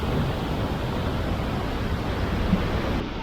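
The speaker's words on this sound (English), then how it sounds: "So I guess all of that is the waterfall park." Rushing water at the Edessa waterfalls in Greek Macedonia during a strong spring flow, a dense, steady, broadband roar that holds constant and fairly loud, with no voices.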